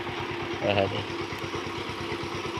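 A Power Trac 130 DI tractor engine chugs steadily, a low rhythmic diesel throb close by, heard under continuous talk.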